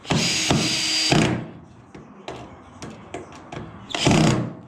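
A screwdriver drill drives screws into a suspended ceiling frame in two close, whirring bursts, a longer one and then a shorter one, with clicks and handling knocks between them.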